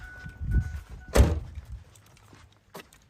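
A 1996 Ford Ranger XLT truck door thunks shut with one solid slam, preceded by a softer bump and followed by a faint knock, close by in a quiet setting.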